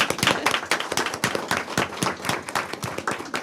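Sparse clapping at a school board meeting, a handful of people whose individual claps stay distinct and uneven in a close, quiet room, with no talk over them.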